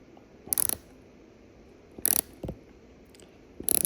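A ratcheting tool clicks in three short, sharp bursts while tightening a panel clip on a Ferrari F430, close and crisp against a quiet background.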